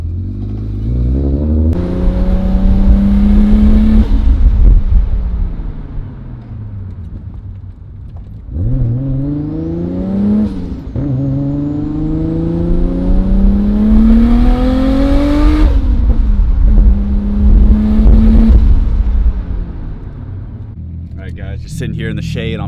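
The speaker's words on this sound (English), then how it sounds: "All right, let's go bed these brakes." A Nissan Skyline R32 GTR on an open road, repeatedly accelerating and slowing while bedding in new brakes; the engine note climbs and falls in long sweeps, loud and close, with a voice talking over the driving.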